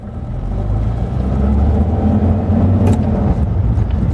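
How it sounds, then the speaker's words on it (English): A car with a half-automatic gearbox pulls away in first gear, its engine a steady, fairly loud low drone with rising revs and no talk over it. "So into first gear and we set off."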